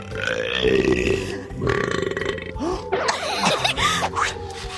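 Several loud, drawn-out burps in a row, deep and gurgling with pig-like grunting tones, following each other closely over a few seconds with no talking.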